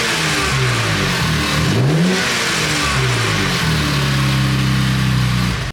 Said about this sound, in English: rev it a couple of times so they can hear it